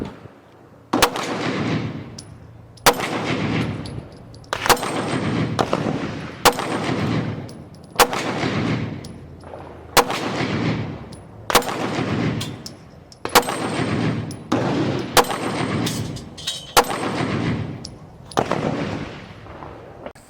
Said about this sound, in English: Just for fun, we're trying to hit these little poppers that's at about 12 to 15 yards.